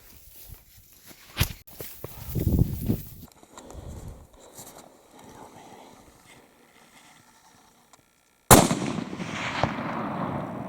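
A rifle fired during an elk hunt in the Gila, New Mexico: faint outdoor rustling and footsteps, then one loud, sharp, close shot followed by a rolling echo across the landscape.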